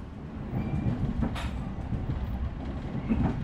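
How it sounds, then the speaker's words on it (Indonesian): The Argo Bromo Anggrek express train passes straight through Semarang Poncol station as a steady, loud, dense low rumble of wheels and cars that runs unbroken for the whole stretch. "sekarang ini perjalanan kereta Argo Bromo Anggrek melintas langsung di stasiun Semarang Poncol"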